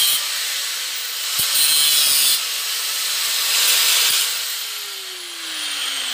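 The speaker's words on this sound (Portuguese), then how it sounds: "Cortamos as pontas dos parafusos, tá vendo aí?" A power tool, likely a grinder or cutoff saw, cuts off protruding bolt ends while building a tire swing, a steady loud high whine that swells and eases over several seconds, with no talk.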